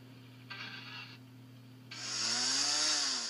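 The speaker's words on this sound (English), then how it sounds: "a chainsaw" A chainsaw engine idles briefly, then roars up to a high, steady buzzing whine that holds for over a second, moderately loud and alone.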